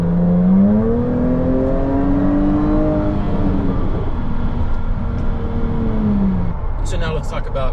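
A 2017 Jaguar F-Type S convertible accelerates hard, its engine note loud and continuous, rising and falling in pitch with a throaty gurgle as it pulls through the gears.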